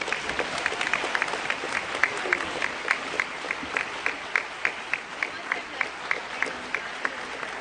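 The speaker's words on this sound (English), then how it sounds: "Please give them all a big round of applause." Banquet audience at an alumni dinner applauding scholarship seniors, moderate clapping that thins into a few distinct, rhythmic claps standing out near the microphone, with some murmuring beneath.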